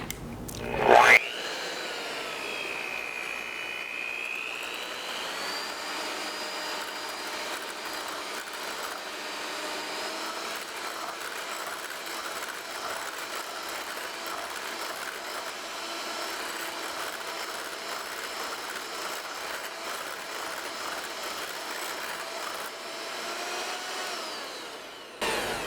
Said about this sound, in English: I'm going to turn down the volume here so you don't have to hear this whining noise. I'm not talking about my voice, I'm talking about the mixer.